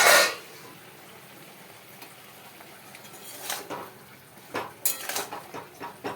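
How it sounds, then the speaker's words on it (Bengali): A metal lid is eased off a pot of simmering Bengali vegetable curry, giving a few soft clinks and scrapes of metal against metal spread across a quiet kitchen background, with the sharpest clatters coming near the end. "এবার ঢাকাটা আস্তে আস্তে আমি খুলে নিলাম।"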